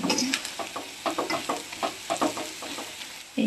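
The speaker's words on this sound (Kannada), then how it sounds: "ಸೊ ಇದೆಲ್ಲ ಫ್ರೈ ಮಾಡ್ಕೊಂಬಿಡೋಣ." Masala and coriander powder frying in a pan for egg rice, with a repeated stirring scrape and soft sizzle across the whole stretch and no talking.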